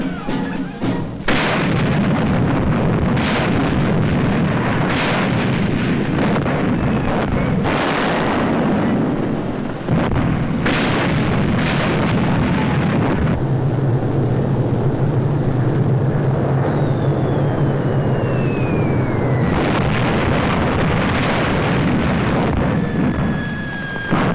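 A 1942 wartime documentary battle scene of the Italian invasion of Ethiopia roars with continuous rumbling artillery and explosions, sharp blasts and bursts of gunfire breaking through a dense, loud, wind-like din.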